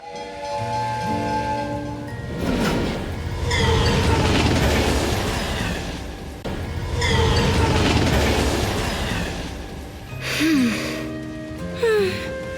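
A train moves in Neverness To Everness with a continuous rolling rumble and hiss, surging in two long swells, over background music with brief tonal chimes and a voice speaking near the end.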